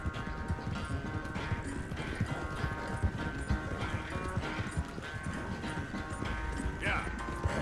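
Horse hooves clip-clop steadily in Red Dead Redemption II, a continuous rhythmic trot heard close alongside game ambience, with voices talking over it.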